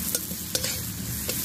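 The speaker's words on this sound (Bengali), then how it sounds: "এবার আমি রসুন কুচিটা দিয়ে দেবো।" Chopped garlic frying in a pan for chicken korma, a close crackling sizzle broken by a few quick scrapes and knocks of a stirring spoon.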